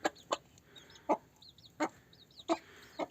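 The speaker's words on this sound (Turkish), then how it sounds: "bakın şimdi e, çağırıyor civcivini" A Gurk hen in a coop calls her single chick with a series of short, sharp clucks repeated at irregular intervals, close and fairly clear over a quiet background.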